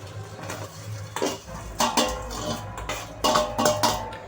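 Matki bhel, a sprouted moth-bean snack with spices and chilli, is stirred in a metal cooking pot, giving a series of scraping, clinking strokes of a spoon against the pot in uneven bursts, fairly close and moderately loud.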